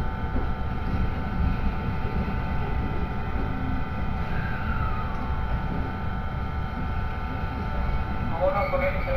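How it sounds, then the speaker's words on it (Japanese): A Sanyo Line train near Himeji rumbles low and steady while an electric motor whine rises and falls as it begins to pull away, with voices in the background. "電車は一度止まりますが、再度動きます。"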